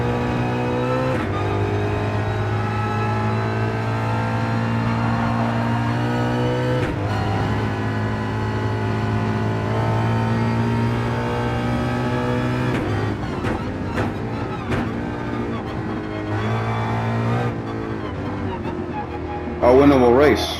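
A race car engine in the Gran Turismo 7 video game drones loudly and steadily, rising in pitch through gear changes as it accelerates, with shifts and brief dips across a long stretch; a voice talks faintly underneath.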